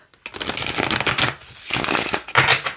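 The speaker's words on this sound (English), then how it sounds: "it shuffles so nice too" A tarot deck with Hay House cardstock is shuffled in quick riffling bursts, a crisp flutter repeating a few times close up.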